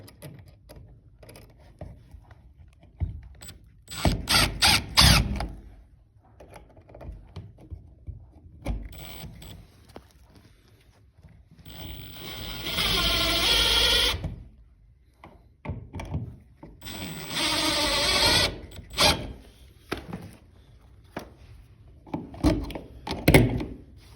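An impact driver runs two buzzing, rattling bursts of a few seconds each, driving screws into a 20 amp duplex tamper-proof outlet. Scattered knocks and handling clunks surround the bursts, and no one speaks.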